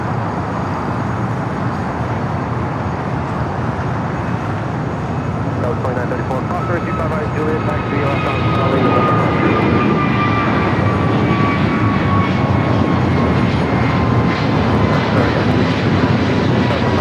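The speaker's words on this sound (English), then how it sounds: "Next takeoff here on the south side. American Airlines Flight 297 heading to Honolulu. It's an A321neo." American Airlines Airbus A321neo taking off at LAX, bound for Honolulu, a broad jet roar that swells and brightens midway with a rising whine, heard alongside talking.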